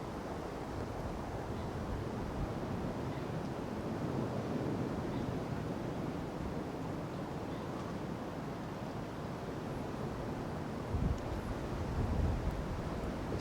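Wind blowing across a small river while roach fishing, a steady broadband rush with gusty microphone buffeting, loud and continuous throughout, with a brief stronger gust near the end.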